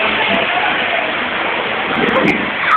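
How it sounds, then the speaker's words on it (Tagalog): Heavy rain pours steadily as a dense, continuous hiss, close and loud, with people talking and laughing over it while they play out in the downpour. "maliligo kami sa ulan"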